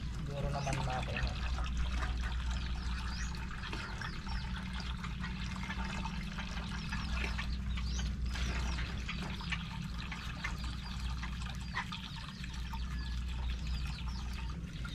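Water poured into a container partly filled and salted for making tuba, a soft continuous pouring and trickling under a nearby voice talking over it.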